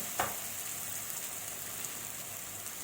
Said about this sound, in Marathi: आपण हे पावडर मसाले चांगले भाजून घ्यायचे आहेत.